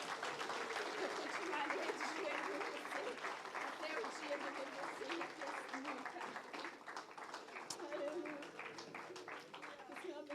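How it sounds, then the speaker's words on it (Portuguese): A church congregation applauding joyfully during an anniversary service, sustained clapping heard faintly while voices carry on over it. "enquanto a igreja aplaude com muita alegria"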